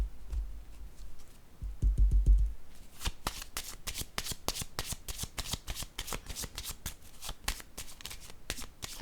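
A deck of cards is shuffled for a card reading, with a burst of low thumps followed by a long run of quick, crisp riffling clicks in a rapid, even rhythm.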